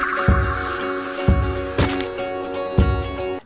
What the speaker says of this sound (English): So this is the guitar.